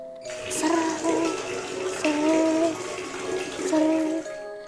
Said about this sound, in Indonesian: air keran yang ada di kamar mandi di kamar 308 ini menyala dengan sendirinya